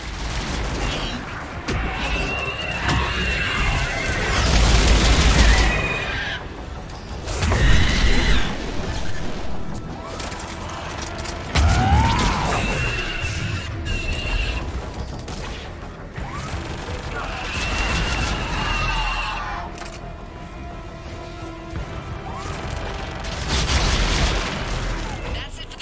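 Missile fire and explosions in Mass Effect 3 come as repeated heavy booms and crashes over a continuous mechanical din, with other game sounds and voices mixed in across the stretch.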